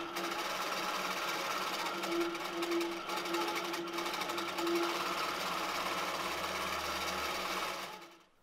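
An Autopilot Mach3 computerized quilting machine stitching a pass across a quilt makes a steady, close, continuous mechanical whir with rapid needle rhythm that winds down at the end.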